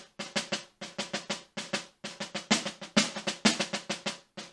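Snare drum played alone in a steady run of quick accented strokes, a rudimental etude from the Portraits in Rhythm book, with groups of rolls and taps clearly separated by short gaps at low overall height with louder accents.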